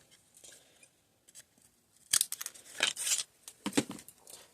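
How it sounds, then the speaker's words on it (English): Heavy-duty craft scissors snipping through a plastic pill bottle: a few faint snips, then a loud run of sharp, crunchy cuts in quick irregular bursts, close up with no talking. "These are my heavy-duty craft scissors."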